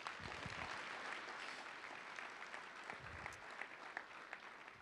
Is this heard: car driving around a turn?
no